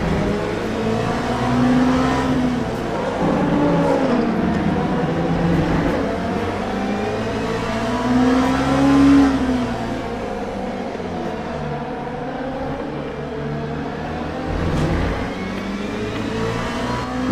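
Race car engines in the Le Mans Ultimate sim racing game at Fuji drone and rise and fall continuously as gears shift, with another car close behind, loud and without talk.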